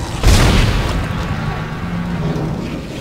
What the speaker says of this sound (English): This gun is a lot loud.